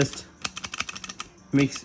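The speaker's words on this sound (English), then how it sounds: "if you push it all the way in, it'll click" A Dover elevator push button clicks when pressed all the way in, giving a quick series of sharp, close clicks followed by a brief burst of voice at the end.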